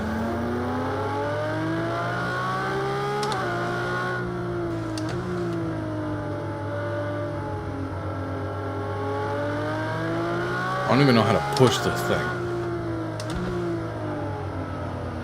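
A Ferrari race car engine in the video game Project CARS 2 hums and whines continuously with shifting pitch, rising revs and a brief rattling burst; a voice speaks briefly over it.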